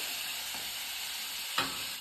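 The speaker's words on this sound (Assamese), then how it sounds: "পেষ্টখিনি একদম ধুনীয়াকে ৰঙাকে ভাজি লওঁ" Crushed ginger-garlic paste fries in hot oil with a steady, bright sizzle and hiss, plus a short stirring scrape near the end, heard close up with no talking.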